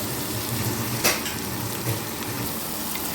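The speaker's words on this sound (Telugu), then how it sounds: "రొయ్యలు వేగిన తర్వాత బ్రౌనిష్ వచ్చే వరకు చక్కగా వేగనివ్వాలి" Dried shrimp frying in a pan with chopped onion and green chilli, a steady close sizzle and crackle of hot oil with a brief knock of a utensil, no talking.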